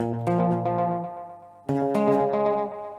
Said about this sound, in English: it's the analog delay going into the pitch shifting delay, and it creates this like a cascading sound